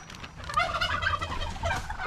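Turkey tom named Kane gobbling on a farm, a rapid warbling gobble rolling through the whole stretch, fairly close and loud, with other birdsong and farmyard noise faintly beneath.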